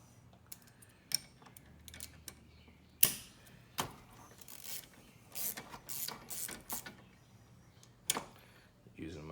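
A stubby ratchet turns a socket on the A/C pressure switch of an Audi Q5 B8.5, giving quick clicking bursts with pauses between them, close and fairly clear amid faint background noise.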